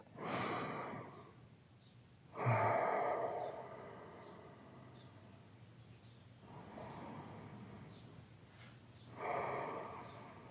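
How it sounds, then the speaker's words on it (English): Slow, deep breaths during a guided meditation: a few long, audible inhales and exhales come in separated bursts, close and fairly quiet, with no talking. "close your eyes and take a couple of deep breaths"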